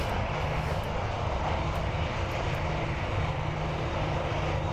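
A steady, droning video game airplane engine hums continuously at an even level, a low constant roar with no voices over it.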